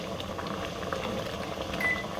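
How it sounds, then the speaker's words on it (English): Peach cobbler filling at a raging boil in the oven gives a steady, dense bubbling hiss, continuous and fairly close, with no voices over it. "I got a serious raging boil going, which is the way I like it."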